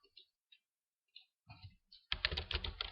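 Keys clacking on a computer keyboard, a few sparse taps and short bursts before settling into a steady, close run of fast typing.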